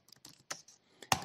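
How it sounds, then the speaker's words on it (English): Shift and Enter pressed on a computer keyboard while working in Python with Pandas: a handful of crisp, close key clicks in an uneven rhythm, ending on a louder final press. "If I click just shift enter"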